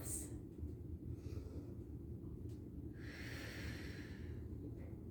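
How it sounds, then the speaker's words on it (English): Slow, deep breathing while lying draped over a large yoga ball, steady airy inhales and exhales heard up close over a constant low background hum, with no talking. "we're going to stay here and take some nice deep breaths"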